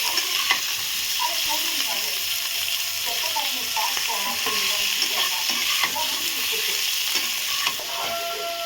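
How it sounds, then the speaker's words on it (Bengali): Potatoes fry in a pan, sizzling and crackling steadily up close as they are stirred and scraped with salt, with a spoon knocking against the metal now and then. "নুনটা দিয়ে আলুটা একটু ভালো ভালো করে নিচ্ছে"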